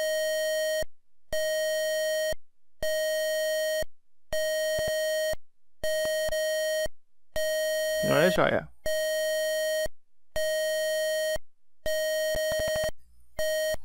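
Arduino driving a small speaker for pinball sound effects, putting out a steady electronic tone in repeated bursts about every 1.3 seconds with short gaps, with a brief voice heard over one burst.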